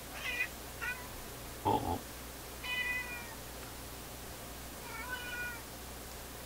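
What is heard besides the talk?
cat meowing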